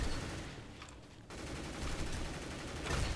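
Rapid gunfire in a first-person shooter video game, heard as dense, continuous bursts of shots with a brief gap, fairly quiet and with no talk over it.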